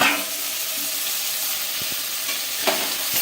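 Tomatoes and green peas sautéing in oil in a pan, a steady close sizzle with a few short stirring scrapes near the end.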